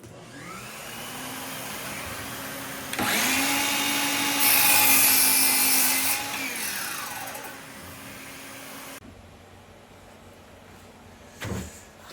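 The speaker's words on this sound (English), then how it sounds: "I've got my miter saw set up at a 45-degree angle. I'm just going to nip away a little bit of that corner." Miter saw set at 45 degrees cutting off a wood corner: motor spins up with a loud whine, bites briefly into the timber with a harsher rasp, then winds down and stops, followed by a short knock.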